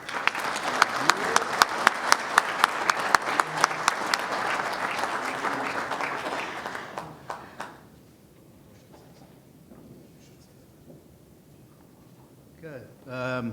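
Conference audience applauding in a hall, a dense, loud wave of clapping that holds for about seven seconds and then fades out, leaving near silence with a faint voice at the end.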